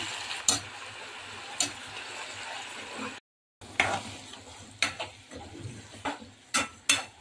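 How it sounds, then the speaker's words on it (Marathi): Chillies frying in hot oil over low gas for Schezwan chutney, a soft sizzle punctuated by intermittent scrapes and clinks of a utensil against the pan, with a brief silent break midway. "गॅस स्लो करून 2 ते 3 मिनिटं ही मिरची तेलावर परतून घ्यायची आहे"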